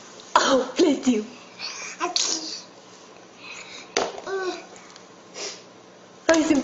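A baby sneezes a few times in short bursts among soft babbling and cooing, while an adult talks nearby between the sneezes.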